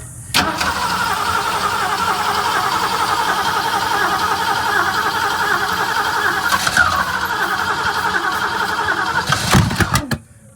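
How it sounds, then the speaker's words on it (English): A 1965 Ford Mustang coupe engine cranks for a long stretch while fuel is drawn up to the repaired carburetor, a loud continuous mechanical whir close up, ending in a few abrupt bursts before cutting off. "So crank it for a bit. Let's get fuel up to it."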